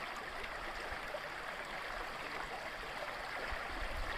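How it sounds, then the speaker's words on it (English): A small clear brook on Isle Royale flows in a steady continuous rush and babble, close by and fairly soft, with no voices over it. "it's kind of a beautiful little brook here, stream. Water looks pretty clear"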